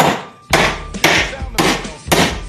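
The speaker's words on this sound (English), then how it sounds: "Always take this hammer and you can set the nail in there" Hammer setting a nail, four loud, close strikes spaced roughly half a second apart, each a sharp impact with a short ringing decay.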